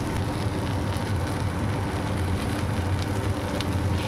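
Leftover rice frying in a pan with fried egg and chopped green chili, a steady close sizzle and crackle running evenly throughout with no talking.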